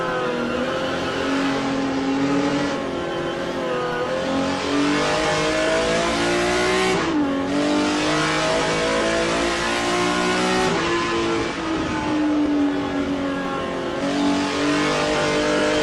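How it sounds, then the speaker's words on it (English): Number 50 BMW M1 Group 5 race car in a historic sportscar racing game, its engine roaring loud and steady throughout, with repeated rises and dips in pitch through gear shifts and corners. "Let's ride with Oliver Day in the number 50 BMW M1 Group 5."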